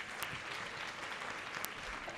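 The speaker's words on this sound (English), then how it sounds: "we must give them another big round of applause" Audience applause at a community colleges infrastructure programme launch, a steady broad wash of clapping filling the whole moment with no voices on top.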